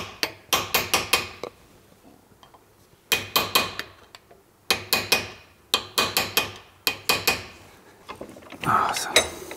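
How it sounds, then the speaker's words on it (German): Sharp metallic taps ring out in quick clusters of three to five as a hammer drives a flat screwdriver to bend back Vespa scooter sheet metal, with short pauses between bursts. "nehme ich einen Schraubenzieher. Weil der ist ja vorne auch flach und nicht geschliffen, sodass wir das Blech zwar umbeugen können"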